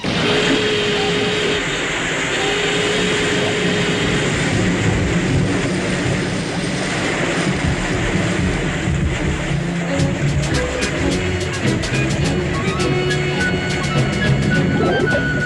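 A submarine crash dives in a TV sound effect: a loud, continuous rushing roar of venting air and water with a mechanical rumble, building into rapid rattling pulses in the later part, with no voices.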